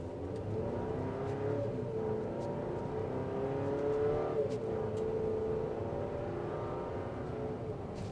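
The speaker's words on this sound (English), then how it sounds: "It's a pretty throaty 4-cylinder turbocharged engine." Turbocharged 4-cylinder engine of a 2025 Buick Enclave ST accelerating in sport mode, a steady throaty drone with rising and shifting tones, close and continuous without a break.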